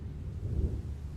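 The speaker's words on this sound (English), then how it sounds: "I hope you can hear the storm in the background." A thunderstorm rumbles low and faint in the background, a soft continuous roll of distant thunder with no other clear sounds.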